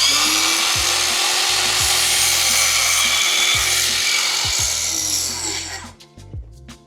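A DeWALT battery-powered saw with a 1.7 amp hour battery and general purpose blade cuts a PVC miter, giving a loud, steady, high whine that runs for about six seconds, then stops abruptly, leaving a few faint clicks.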